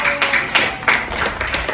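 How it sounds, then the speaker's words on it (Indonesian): A group in a classroom applauds the blue team for finishing a game challenge fastest, a short burst of loud, dense clapping with uneven surges that lasts under two seconds. "Tepuk tangan untuk kelompok biru."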